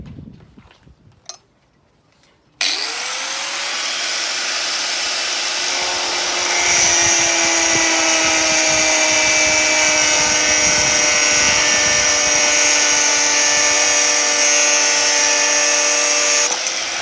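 An angle grinder fitted with a new blade cuts stainless steel rigging on a Rival 41 sailboat. After a couple of quiet clicks it spins up into a loud, sustained high-pitched whine and grinding screech that runs close and unbroken to the end.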